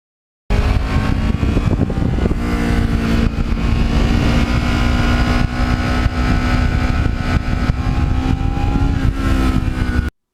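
A Ninja motorcycle on a winter-salted road holds a steady, loud engine drone throughout, with slight shifts in pitch as it rides on, and no one speaks.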